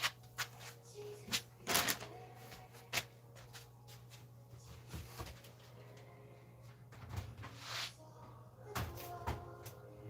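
A drawer slides open among other clunks and thumps of cupboard or drawer handling in an indoor nursery room, a few sharp knocks spread over low steady background hum.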